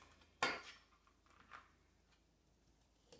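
Carrots dropped into an Instant Pot for homemade puppy stew give one sharp clatter against the pot, followed by a couple of softer knocks, close by and with no talking.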